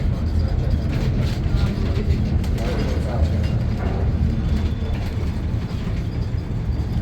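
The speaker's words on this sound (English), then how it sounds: "Freight train going by too." A freight train rolls by at a distance beside a steep incline railway, giving a steady, broad rumble that holds evenly for the whole stretch with no break.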